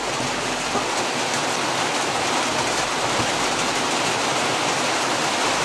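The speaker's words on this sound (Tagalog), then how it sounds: "Yung ulan." Steady, dense rain pours continuously, a loud broadband hiss with no breaks or voices.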